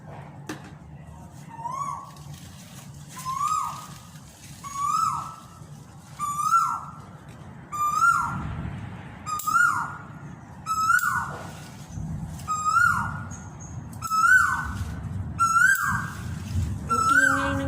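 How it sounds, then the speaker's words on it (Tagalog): A noisy bird near a calamansi tree gives a long series of repeated whistled calls, about a dozen evenly spaced notes, clear and fairly close over a low background rumble. "Ang ingay ng ibon."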